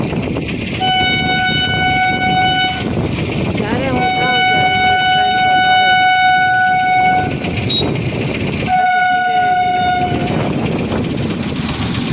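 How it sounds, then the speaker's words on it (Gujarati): A train rumbles past nearby while its horn sounds three long, loud blasts; a person talks over the noise. "ટ્રેન આવે છે"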